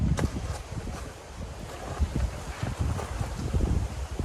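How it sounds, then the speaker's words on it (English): Strong wind blows across a carp fishery, buffeting the microphone in uneven gusts with a soft rushing roar, fairly quiet overall and with no voices. "It's very windy today."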